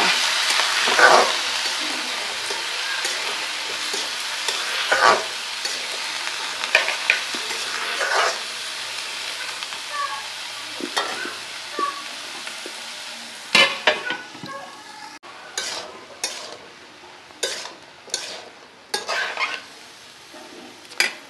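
Mixed vegetables fry in a pan after chilies and onions have browned, giving a soft continuous sizzle, while a utensil stirs and scrapes, with clattering knocks against the pan that grow sharper and more frequent toward the end.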